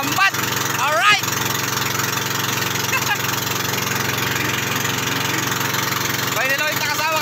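A fishing boat engine drones steadily at sea throughout, with brief whistling or voice-like chirps near the start and end.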